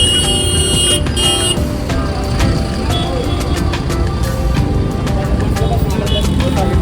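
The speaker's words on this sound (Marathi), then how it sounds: "आपली फ्लेक्स बस आलेली आहे" A FlixBus coach pulls up at a bus stop amid loud, steady engine and traffic rumble, with busy roadside noise filling the whole stretch.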